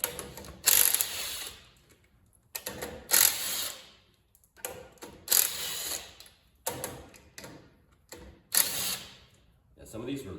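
A small impact gun rattles off the six hub bolts on a Suzuki Samurai axle fitted with a locker, in five separate short bursts separated by pauses.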